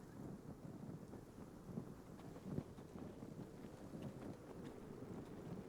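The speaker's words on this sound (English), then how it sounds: "It's super windy and cold up here." Low, rumbling wind gusts in the Telltale Game of Thrones video game roar continuously with buffeting, fairly faint and steady, with no voices.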